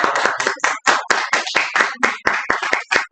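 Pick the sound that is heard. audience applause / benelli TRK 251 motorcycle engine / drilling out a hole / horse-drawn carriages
audience applause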